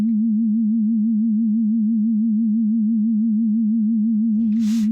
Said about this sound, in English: Here's how the same note sounds when we apply a 6 Hz vibrato that changes the pitch up and down by 12 Hz